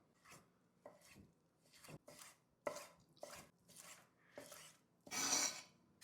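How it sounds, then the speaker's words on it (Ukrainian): Pork ribs being chopped into cubes for solyanka soup: a series of about nine sharp knife strikes against a cutting board at an uneven rhythm, close and clear, with a longer scraping sound near the end. "Я наріжу кубиком в солянку"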